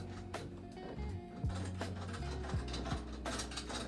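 Metal screws being driven in by hand while a door knob is installed, heard as close, irregular ratcheting clicks and small mechanical scrapes with a few sharper knocks over a steady low background.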